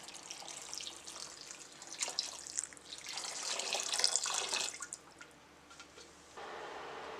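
Water is poured into a pot holding granulated sugar, making a steady splashing trickle that builds, then stops, with a quiet room hum left behind.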